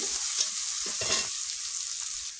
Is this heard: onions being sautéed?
yes